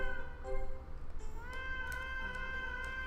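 A cat in the Japanese game Simple 1500 Jitsuyou Series Vol. 16 - Neko no Kaikata meows several times. The meows are clear and drawn out, with a soft music bed underneath and no talk.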